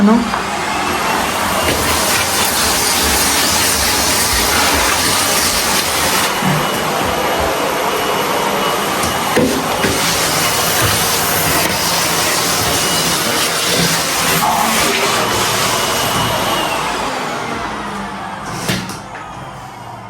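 A vacuum cleaner drones steadily and loudly for the whole stretch, with occasional knocks and bumps over the roar.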